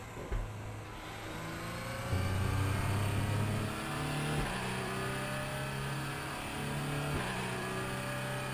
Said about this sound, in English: Engine sounds terrible.